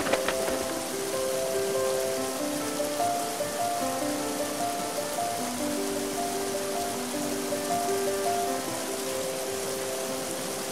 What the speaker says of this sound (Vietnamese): Ôi, lại mưa rồi.